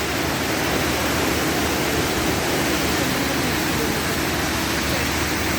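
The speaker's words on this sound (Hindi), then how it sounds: "तो ये बहुत ही दूर से नज़र आने वाला चौड़ा सा झरना है।" A wide waterfall at Kanchenjunga Falls in Sikkim, heard from a distance as a steady, dense roar of rushing water that holds constant throughout.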